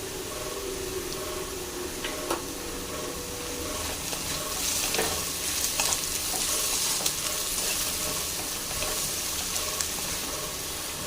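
Potato pieces frying in oil with salt and turmeric for ghugni, steady crackling sizzle with occasional stirring clinks and scrapes, close up and moderately loud, no voices.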